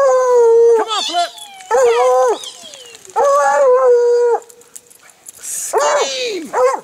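Several hunting dogs on a lion hunt howl and yip loudly nearby in long, wavering bursts with short pauses between, the calls overlapping and rising and falling in pitch.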